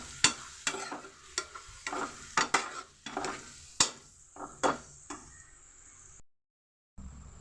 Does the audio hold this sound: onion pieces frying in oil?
yes